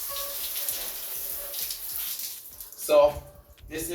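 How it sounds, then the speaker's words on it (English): Water from a hose rinsing blood out of a butchered rabbit on a Jamaican rabbit farm, an irregular splashing stream with a louder gush near the end, close and moderately loud. "Then we'd use our hose again and wash out any blood."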